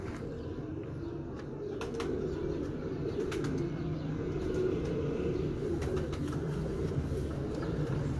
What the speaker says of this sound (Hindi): कन्फर्म प्रवासी कबूतर है माशाल्लाह।